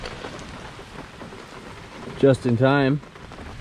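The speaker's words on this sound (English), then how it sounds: "Starting to rain now." Rain pattering steadily onto a tarp shelter pitched at a solo campsite in Algonquin, with a short spoken phrase near the end over the constant wash of drops.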